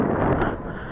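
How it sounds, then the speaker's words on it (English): Steady gusty wind of about 10 to 15 mph buffets the microphone at night in Richmond Park, a dense low roar that swells slightly then eases. "The wind wasn't forecast for today, it's gusting at about 10"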